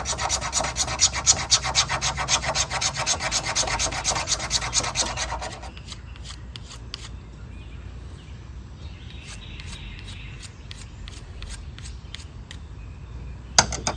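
Rapid, close rasping scrapes of a knife spine against fatwood run steadily for several seconds, then give way to a few sparse, quieter scratches.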